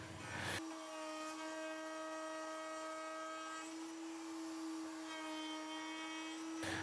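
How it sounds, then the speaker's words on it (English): A power tool, likely a sander, works the edges of a wooden board with a steady, faint, high whine that holds at one pitch for several seconds between brief bursts of noise at the start and end. "I gave the edges a quick sanding to prep for paint"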